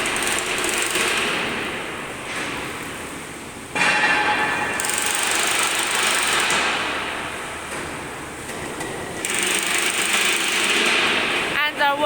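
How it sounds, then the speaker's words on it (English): Steady crusher machines run continuously in a factory with grinding, clattering mechanical noise, loud and close, with a voice speaking intermittently over it. "Look at our crushers."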